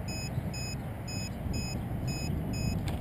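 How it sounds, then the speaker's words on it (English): A radio-control transmitter's timer alarm for a small canard delta park-flyer plane sounds six evenly spaced, clear electronic beeps, moderately loud, over a soft outdoor rumble with no talking. "That was my, probably my 5-minute alarm."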